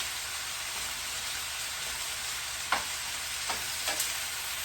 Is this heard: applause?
no